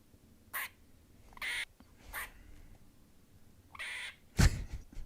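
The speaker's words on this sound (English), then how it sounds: "It sounds like a chicken or something." A squawking, chicken-like bird call repeats in five or six short, fairly faint bursts with pauses between them against a quiet background.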